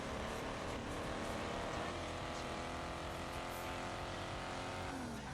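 A race car in the Ford Racing 2 video game drives through corners, its engine droning steadily at high revs with faint tire squeal, continuous and fairly quiet.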